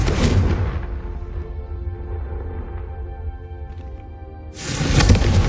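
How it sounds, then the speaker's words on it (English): A Confringo fire spell cast in the Hogwarts Legacy video game, heard as a loud burst at the start, a sustained rumbling, crackling tail, and then a second strong blast near the end. "a Confringo cast travels a bit farther than that of a spell like Incendio"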